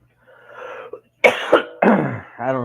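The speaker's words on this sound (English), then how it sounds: "I don't know why I'm coughing like crazy, but it's ridiculous" Several harsh, close coughs come in quick succession, with a throat-clearing rasp between them and a short breathy sound near the end, loud against a quiet background.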